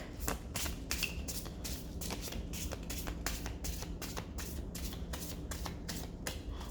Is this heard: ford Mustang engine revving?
no